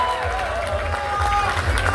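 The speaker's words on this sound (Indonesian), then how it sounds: "kita berikan tepuk tangan" A Jakarta crowd applauds to welcome a gubernatorial candidate at a campaign event, a steady wash of clapping and crowd noise beneath an amplified voice talking.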